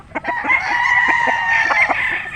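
A young Gilmore street-breed gamefowl rooster crows loud and close, one long strained call drawn out over a couple of seconds, with faint clucks and farmyard sounds beneath.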